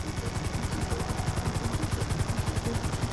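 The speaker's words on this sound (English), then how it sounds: "Just hold the chopper here." Helicopter hovering in Grand Theft Auto V, a steady rapid rotor chop with a dense engine roar, loud and continuous throughout with no voices.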